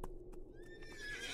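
A horse neighs in the video game Wild Horse Islands: a rising, drawn-out whinny building over a second, heard alongside soft hoof clip-clops and a steady low game ambience, with no talk.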